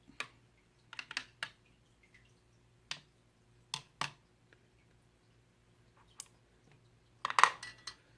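A watercolor brush gets rinsed in a water cup, giving sparse light taps, clicks and small splashes against the container, close and quiet, with a slightly louder swish near the end.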